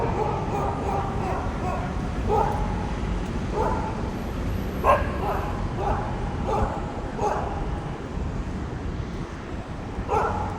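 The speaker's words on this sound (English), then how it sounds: "I'm sure you saw that dog was barking" A dog barks on a street beneath a freeway in Bangkok, giving several scattered barks over a steady wash of traffic and city noise, with some voices in the background.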